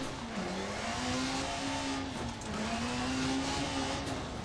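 Peugeot 405 T16 rally car in DiRT Rally on the Pikes Peak course, engine roaring at steady high revs with a whining tone that dips briefly on a downshift into first, loud and close throughout.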